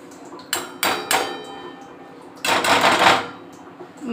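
Chopped carrot and potato pieces are dropped into water in a pot. Three quick, sharp knocks come close together, then a longer, louder clattering tumble follows after a pause, all up close.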